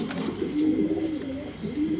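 Tota-shape pigeons coo steadily at close range, a soft rolling throaty murmur repeating without pause and with no voices over it.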